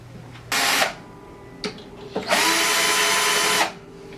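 A Plek machine dresses guitar frets with a spinning blade, giving a loud whirring buzz in two sustained bursts, a short one and a longer one, with a brief tap between them.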